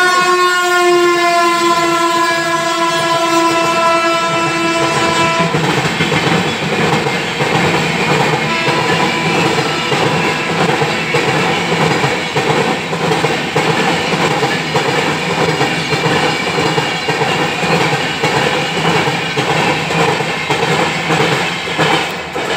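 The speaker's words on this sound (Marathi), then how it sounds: "व्हिडिओ बनवताना कधीतरी गाडी मध्यंतरी येतेच" A train at a railway station sounds a long, loud horn blast, then rolls past close by with a steady, heavy rumble and wheel clatter lasting about twenty seconds.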